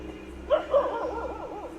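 Dogs outside at night: a couple of faint, distant yips followed by a wavering whine, heard over a steady low background hum.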